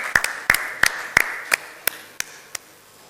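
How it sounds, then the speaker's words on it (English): About nine sharp, evenly spaced claps at a conference sponsor tribute, fairly close and tapering off in loudness, from a sparse scattering of hands rather than a full crowd. "Let's give a big round of applause to all the sponsors."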